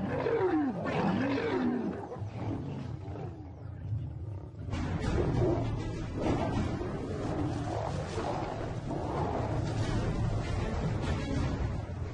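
Lions fight near a river, giving loud, close, repeated snarling roars and growls that rise and fall over several seconds with scuffling between them.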